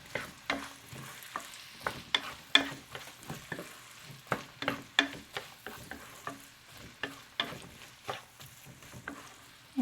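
Onion and celery sautéing in a pan while being stirred, with repeated sharp scraping strokes in an uneven rhythm over a steady low sizzle, close and clear, no talking.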